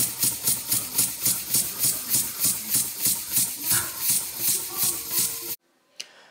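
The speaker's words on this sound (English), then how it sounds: "there Steam we have engine. A rugby ball." A small model steam engine with one cylinder and a flywheel, run on air from a rugby ball, chuffs in a fast steady rhythm of about three hissing puffs per second, close and loud, then stops abruptly as the ball empties, leaving one faint knock.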